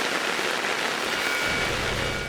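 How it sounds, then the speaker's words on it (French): Steady rain pours down, a dense hiss of drops hitting surfaces, continuous and fairly close with no voices. "il pleut de plus en plus"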